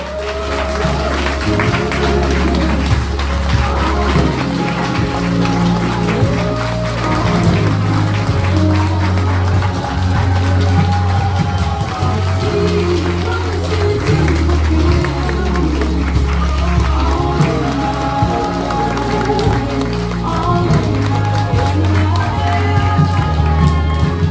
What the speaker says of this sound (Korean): 큰 박수와 함성으로 청감을 빛내주시기 바랍니다